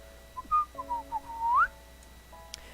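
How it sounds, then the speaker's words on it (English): A character whistles a short melodic tune in a Clannad visual novel garden scene, clear rising and falling notes over soft background music, ending on a bright upward slide, with no voices. "It makes me want to whistle while I work."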